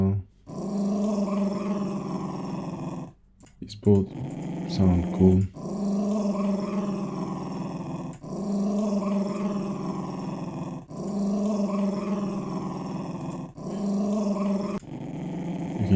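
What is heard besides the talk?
creature growling and hissing from a sound library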